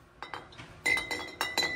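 Glass water bottle with a plastic cap clinking, a few sharp bright taps in quick succession, close and clear with no talking.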